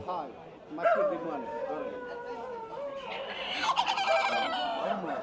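Chickens and roosters cluck and call at a market amid loud talking, with bursts of clucking rising under the voices.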